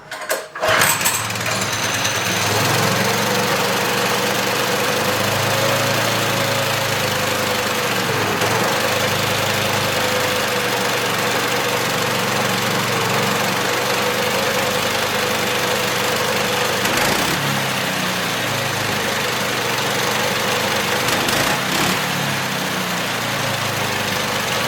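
Small go-kart engine idling too high, a loud, close, steady buzzing drone that holds nearly unchanged for over twenty seconds with only slight wavering.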